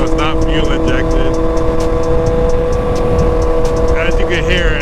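A carbureted 2001 Yamaha R1 sport bike idles with a loud, steady exhaust drone and bursts of crackling pops, while someone talks over it throughout.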